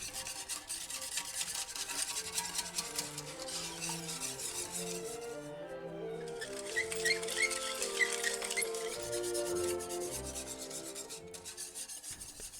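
Gravy roux is stirred into pan juices in a cast iron pan with a spoon scraping and rubbing steadily against the metal, soft and close, with a low sizzle underneath and no talk.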